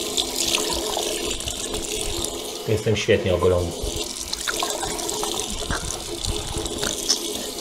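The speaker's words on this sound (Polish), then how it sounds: "Zimna woda, bo zacząłem płukać umywalkę i pędzel." Cold tap water runs into a sink as it and a shaving brush are rinsed, a steady splashing flow with someone talking over it.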